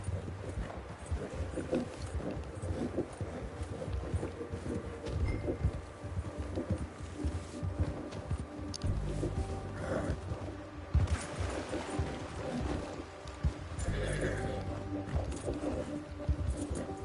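Horse hooves clip-clop steadily through a Red Dead Redemption 2 game scene, mixed with ambient birdsong and a dense background bed; no clear neigh stands out, and no one speaks.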